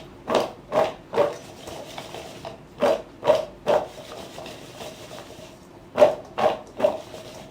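Raw mango pickle is stirred together with oil and spices, making a series of soft, squelchy mixing strokes in short bursts, each a thick wet rub, with pauses between rounds and no voices.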